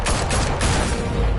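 Gunfire fills a cartoon fight scene: a dense, loud burst of rapid shots runs continuously from start to finish, close and harsh, with no talking over it.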